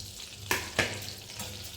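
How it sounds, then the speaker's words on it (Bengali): Butter sizzles and fries in a hot wok (kadai), a steady crackling hiss with two sharper stirring clatters near the start and a fainter one later. "আর কড়াই একটু বাটার দিয়েছি"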